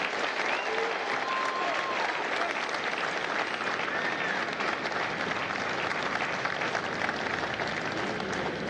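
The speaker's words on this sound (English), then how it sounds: "a round of applause for the Marines that make Marines, the drill instructors of God's Company" A large crowd applauds the Marine drill instructors at a recruit graduation at MCRD San Diego, broad steady clapping heard from a distance with occasional whistles and cheers mixed in.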